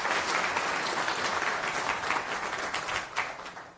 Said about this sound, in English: Round of applause to Filippo.